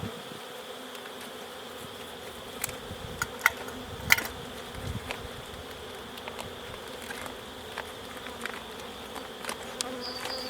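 Agitated honeybees buzz continuously around an open hive, a dense droning swarm close by with occasional sharper passes and soft handling bumps.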